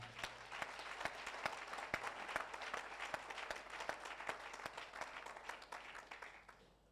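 A church congregation breaks into steady applause during a French-language evening seminar service, sustained clapping filling the hall for several seconds with a few sharper individual claps standing out, gradually easing off near the end.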